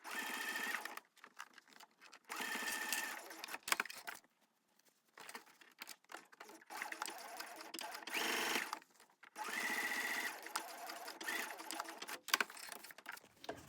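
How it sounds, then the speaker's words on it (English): A sewing machine stitches a zipper seam at full seam allowance, running in several loud, close bursts of rapid whirring separated by brief pauses, with faint fabric rustling in between. "I'm now going to sew it with my full seam allowance"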